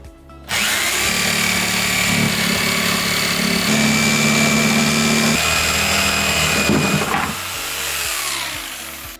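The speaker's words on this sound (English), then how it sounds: "Using a jigsaw, cut along the line that you traced." A jigsaw cuts a hole in a countertop for a semi-recessed bathroom sink, its motor whining and blade chattering steadily and loudly for about seven seconds before winding down.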